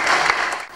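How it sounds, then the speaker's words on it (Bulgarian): Brief burst of audience clapping during a Bulgarian event presentation, dense and steady before tapering off at the end. "Също може да и ръкопляскате"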